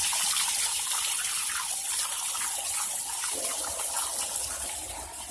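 Antifreeze drains from a car engine during a head gasket repair, pouring out in a steady, loud gushing stream that tapers slightly near the end, close by with no talking.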